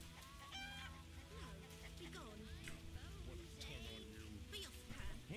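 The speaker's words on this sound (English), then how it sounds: "Geese. Goose. Gooses." Geese honk in The Witcher: Enhanced Edition, a flock of repeated nasal calls scattered through a busy, noisy outdoor ambience, with a voice talking faintly underneath.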